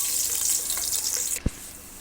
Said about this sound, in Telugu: ఆయిల్ వేడైన తర్వాత ఉల్లిగడ్డలు పచ్చిమిరపకాయలు వేస్తున్నా.